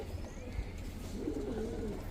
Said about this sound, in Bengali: বিগ সাইজের বড় মাথার কবুতর, সবগুলা কবুতর বড় মাথার